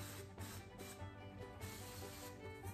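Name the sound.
cooking spray sprayed onto a waffle iron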